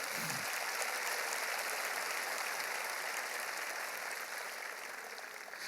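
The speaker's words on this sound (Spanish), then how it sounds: "Ahora denle un fuerte aplauso al Señor" A church congregation claps together in a sustained wash of applause, fairly faint and distant, holding steady for several seconds before gradually thinning out.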